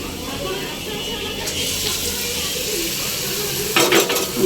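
Dried chili coated in gram flour batter deep frying gives a steady bubbling sizzle up close, with utensil clinks and scraping near the end.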